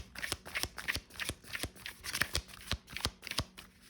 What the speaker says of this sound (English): while I shuffle these cards